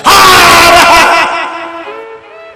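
A preacher at a Shiv Mahapuran katha lets out a long, loud, strained shout imitating a holy man's cry, piercing and close at first, then trailing off into a quieter wavering tone.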